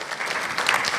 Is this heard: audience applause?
yes